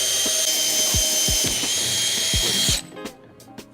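Power drill whirring loudly as it bores through a transducer mount on a Hobie Mirage kayak, with thumps and knocks throughout, then the motor cuts off at close range, leaving a few scattered clicks and taps.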